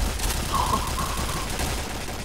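A sustained burst of rapid gunfire rattles on steadily for a couple of seconds, loud and continuous with no voices, like automatic weapons in a game.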